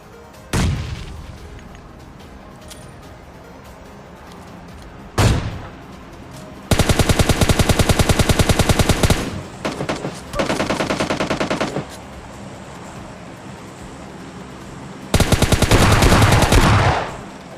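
Gunfire from an AWM sniper rifle in a battle royale video game: two sharp isolated reports, then long dense bursts of rapid automatic fire, loud and close, with no talk over it.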